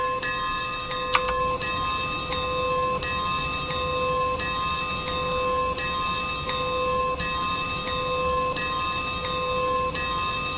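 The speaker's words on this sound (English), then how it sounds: "get the bell going, let everybody know that it's time to get aboard." A narrow-gauge steam locomotive bell in Train Simulator Classic rings steadily on the Clear Creek line, a loud, even clang repeating roughly every second and a half over a low engine rumble.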